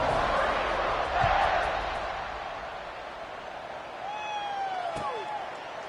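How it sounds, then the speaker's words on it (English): A stadium crowd in the College Football 26 video game makes a broad, steady roar at kickoff, swelling around the start and easing a little later. A thud and a whistle-like sweep cut in near the end. "They're set to kick it off, and this crowd now ready to get behind them."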